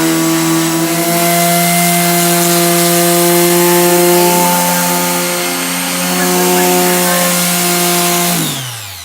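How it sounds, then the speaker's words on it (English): An electric sander works over an Ikea dresser, a loud, steady whirring drone with constant tonal hum that holds for most of the stretch, dipping slightly midway, then winding down at the end. "she's actually gonna start using the sander"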